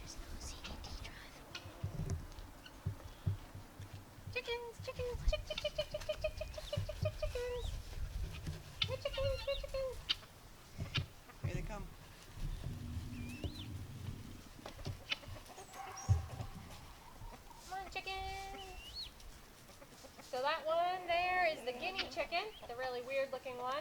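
Chickens cluck and squawk at varying distances while a person talks and calls to them, with other farm animal noises mixed in.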